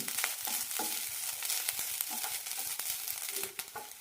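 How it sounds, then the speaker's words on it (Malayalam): Steady crackling sizzle of coconut roasting in a hot pan on high flame, with scraping stirring noises recurring throughout, close and continuous. "ഹൈ ഫ്ലെയിമിലിട്ടാണ് വറുത്തെടുക്കുന്നത് തുടരെ ഇളക്കി കൊടുക്കണം"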